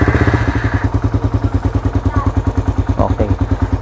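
Suzuki Raider 150 motorcycle, fitted with a remote kill switch, cranks and catches, then settles into a rapid, close, pulsing idle with even thumping beats.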